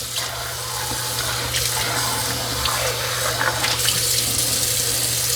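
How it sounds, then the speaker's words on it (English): Tap water pours steadily into a sink while a Dyson V15s Detect Submarine vacuum roller is rinsed, giving a constant close hiss and splash with no pauses. "The roller is relatively clean, but I can rinse it off too."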